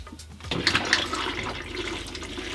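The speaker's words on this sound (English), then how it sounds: "For flushing the toilet" A toilet flushing in a caravan, fed from an Aquaroll water container, with a close, sudden rush of water after a brief pause that keeps gurgling and running steadily to the end.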